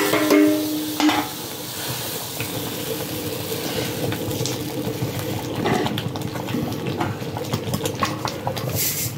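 Roasted semiya and rava are stirred into boiling water in a pan for upma, with a steady wet scraping and bubbling that starts with a brief louder splash and then settles into continuous close stirring.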